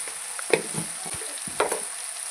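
Small pieces of chopped garlic fry with a little turmeric powder for an egg masala, giving a soft steady sizzle broken by a few sharp stirring clinks and scrapes in the pan, close and without voices.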